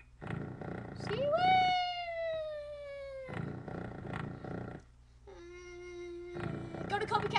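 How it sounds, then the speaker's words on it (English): A synthesized cat meow in The Impossible Quiz rises and slides down in pitch, followed later by a second shorter meow, with game music and sound effects playing throughout. "That's a cat."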